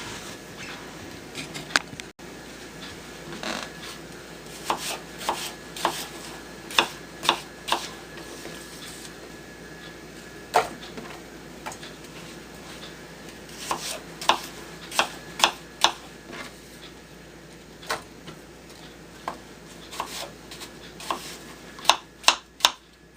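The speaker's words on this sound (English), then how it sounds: "We'll get these peeled, and then I'll chop them and put them in the pan" A knife chopping peeled apples for an apple crumble, giving sparse, irregular sharp taps spread across the stretch, close by and with no talking.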